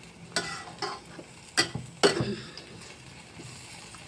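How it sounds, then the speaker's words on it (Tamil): Curry leaves frying in oil for a gongura dish, stirred with a spoon: a low sizzle under several sharp scraping strokes against the pan, close up, with no one speaking. "கருவேப்பிலை போட்டு கிண்டி விட்டுறேன்"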